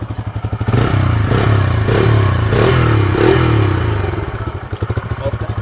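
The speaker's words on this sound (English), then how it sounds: "TFT display and the exhaust note." A Bajaj CNG motorcycle engine runs steadily and loud with a low, throbbing exhaust beat, briefly rising in pitch, then settling into an uneven idle pulse at the end.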